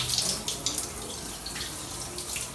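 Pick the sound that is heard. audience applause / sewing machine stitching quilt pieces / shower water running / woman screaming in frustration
shower water running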